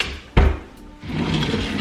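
A household drawer is pulled open with a sharp knock, then a sliding rumble and rattle of its contents, close by and fairly loud.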